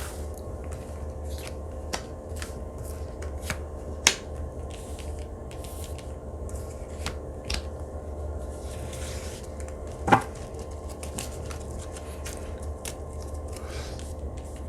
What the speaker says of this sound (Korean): 제가 여기서 카드를 조금 몇 개 더 뽑아보도록 할게요